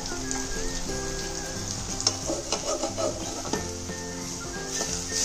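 Cluster beans frying in a little oil, turned repeatedly in the pan: a crackling, rain-like sizzle with soft scraping and a few sharper clacks of the utensil, fairly quiet.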